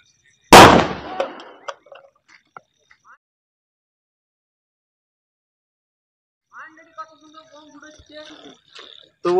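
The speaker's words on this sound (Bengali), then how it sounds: "এই বোতলটাও ফেটে গিয়েছে, কোনো রকম রকেটের মতো উড়ছে না, শুধুমাত্র ব্লাস্ট হচ্ছে" A plastic bottle filled with HHO gas bursts in one sharp, loud blast, its echo dying away over a couple of seconds, followed later by faint background noises.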